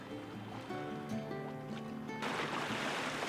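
Sailboat motoring through calm, windless water, with a steady engine drone and tonal hum under a wash of water that grows slightly louder toward the end.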